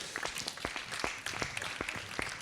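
Audience applause at an awards ceremony, a moderate crowd clapping with distinct sharp hand claps standing out over the fainter mass, steady and slightly distant in a hall.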